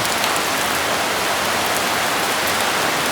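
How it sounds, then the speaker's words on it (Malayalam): Heavy rain pours down steadily at a house in Wayanad, Kerala, a dense, loud, even hiss of drops striking surfaces that continues without a break and with no voices. "മോളെ നല്ല മഴ പെയ്തു കേട്ടോ"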